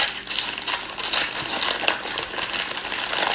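Crinkling plastic packaging is pulled open from around a USDA Prime bone-in tomahawk ribeye steak at a cutting board, a close, busy rustle of crackles and tears with no talking.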